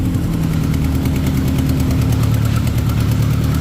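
A 1994 Acura Integra engine running loud and close, a continuous rough idle with a throbbing low rumble and a faint knock, with no voices.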